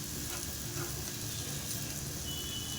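Mashed potato for batata vada goes into hot oil in a pan, giving a steady, dense sizzle and crackle with light stirring scrapes, close and continuous throughout.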